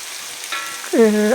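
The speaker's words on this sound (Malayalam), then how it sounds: "അപ്പോൾ ഞാൻ ഉള്ളിയൊക്കെ ഒന്ന് വഴറ്റിയെടുക്കുകയാണ്" Chopped onions sauté in a hot pan with a brief, soft frying hiss that lasts just over a second, ending in a short tonal sound.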